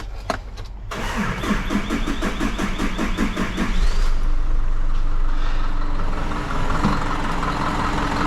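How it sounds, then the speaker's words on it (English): An Isuzu NPR truck's diesel engine cranks with a rapid rhythmic starter chatter, catches and settles into a steady, loud, close idle that runs alone to the end. "Okay, now just start your engine."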